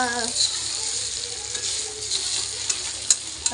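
Food fries in hot, splattering oil, a dense, crackling sizzle with occasional sharper pops and spits, close and steady throughout.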